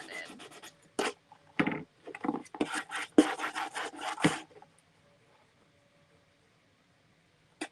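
Hand sanding of a plastic Dollar Tree ghost blow mold, heard as close, dry rasping strokes in irregular bursts that then stop, leaving near silence.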